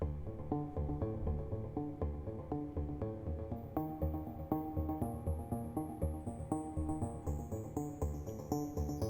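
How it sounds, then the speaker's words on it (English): A piano arpeggio loops in a steady, even rhythm, crushed by a bit crusher effect into a gritty, lo-fi tone, with thin, whining digital overtones stepping in above the notes. "It gets more strange, more distorted"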